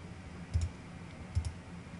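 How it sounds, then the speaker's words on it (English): A computer mouse is double-clicked twice in a quiet room, each time two quick, faint, close-set clicks, with a short pause between the pairs. "And if I double click on it,"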